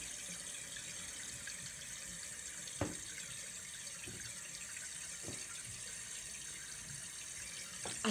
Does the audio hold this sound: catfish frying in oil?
no